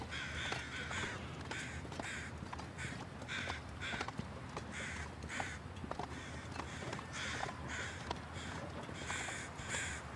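Crows caw repeatedly in the snowy wilderness of the survival game The Long Dark, harsh calls coming in steady bursts over a constant windy background with no talking.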